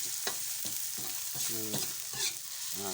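Meat and spices stir-fry in a pan, giving a steady sizzle with regular scraping strokes of a spatula and a few brief clatters against the pan, close and moderately loud.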